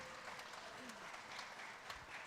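A congregation at a Shabbat morning B'nai Mitzvah service claps in a soft, continuous patter, faint and somewhat distant, with a few voices faintly audible.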